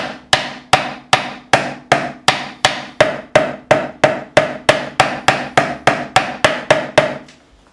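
A steel hammer drives a new fret into the fretboard of an Epiphone Les Paul Standard. About nineteen sharp, loud, evenly spaced taps ring close up, each decaying quickly, with no talking.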